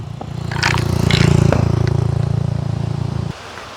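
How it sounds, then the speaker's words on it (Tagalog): Motorcycles pass along a highway in Quezon, Palawan, a loud steady engine drone with a droning rumble that holds for about three seconds then drops off abruptly, with scraping clatter layered over it. "Kita nyo yung mga nagdadaan ng mga motor."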